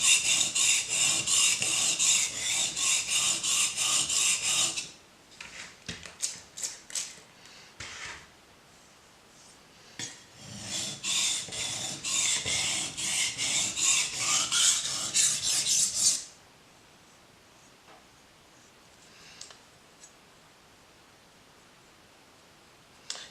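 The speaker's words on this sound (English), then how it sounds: "So it's going to be quite a quick sharp on this one, just to get it to back to a really good sharp knife." A kitchen knife is sharpened to raise a burr along its edge, with close, steady rasping strokes in two long bursts separated by a few seconds of quieter scraping, then near silence.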